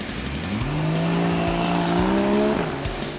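A mid-engine Porsche Boxster GTS sports car drives hard on a track, its engine note climbing loud and close through a rising rev, then dropping sharply near the end, with a touch of tire noise underneath.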